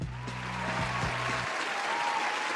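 Live audience clapping, a steady dense burst of applause heard throughout, with a low hum and a voice-like tone underneath at the start.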